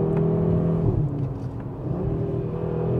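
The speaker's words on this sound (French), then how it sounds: "Alors là, les accélérations sont absolument dingues." Audi RS3 8Y engine accelerating hard, close and loud, with a rising growl that drops briefly at a gear change before climbing again, no talk over it.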